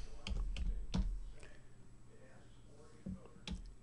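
Keys on a computer keyboard are tapped in a few sparse, close clicks at intervals over a low steady hum, with faint talking partly overlapping.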